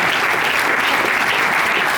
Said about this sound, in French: Je veux qu'on l'applaudisse.